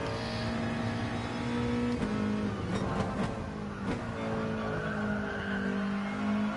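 Car tyres squeal and scrub as a worn-tyre racing car loses grip in a racing video game at Barcelona, a steady engine drone underneath with a few short skid bursts in the middle.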